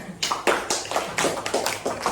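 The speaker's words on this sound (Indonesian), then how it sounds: "Oke, tepuk tangan" Classroom students clapping in a rhythmic, patterned beat, a steady series of evenly spaced group claps, moderately near.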